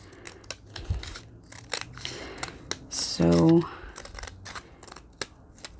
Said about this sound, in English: what I'm going to do now is just take my scissors, and I'm going to follow the edge here